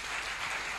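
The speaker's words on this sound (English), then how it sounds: "Let's welcome Mr. Techi Sraha with a round of applause." A brief, dense burst of audience clapping at a rubber industry anniversary conference, steady and moderately loud, with no voices.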